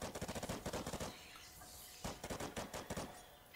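Video game gunfire crackles in two rapid automatic bursts, the first running about a second, then a brief pause before a second burst with faint sounds between, up close.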